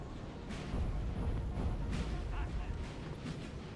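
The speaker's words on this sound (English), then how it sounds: "That artillery sounded pretty close." Howitzer artillery in Napoleon Total War booms repeatedly at a distance, dull thuds rolling under a continuous battlefield rumble with a voice talking over it.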